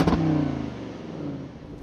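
A 2023 Land Rover Defender 90 with a supercharged 5-liter V8 is revved once with a sharp blip, then settles into a lowering idle rumble from the exhaust.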